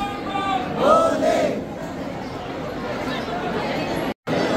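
A huge, tightly packed crowd of devotees at the Mahakal temple in Ujjain chants and shouts together, loud and close, with overlapping voices and a brief sung call rising above the roar before the din settles into a continuous crowd murmur.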